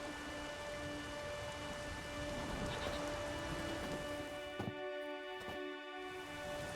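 Steady rain falls in The Witcher video game, a dense even hiss of drops on surfaces, fairly faint, with a musical drone beneath it and a couple of short knocks near the end.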